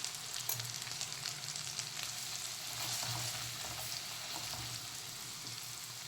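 Asafoetida fries with spices in oil for ivy gourd curry: a softer, continuous crackling sizzle with occasional scraping stirs, heard alone with no voices.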